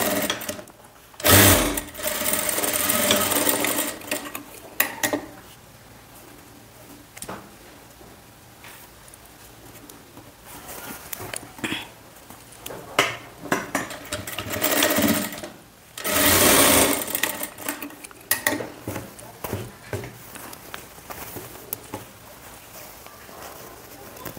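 A sewing machine stitches a boatneck blouse in several short, loud bursts of rapid needle chatter, separated by quieter pauses with light handling noise as the fabric is repositioned.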